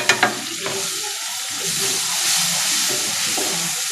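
Ginger and chili paste fries in a pan with cumin, black pepper powder and asafoetida for kachori filling, giving a close, steady sizzle after a couple of sharp clinks at the start.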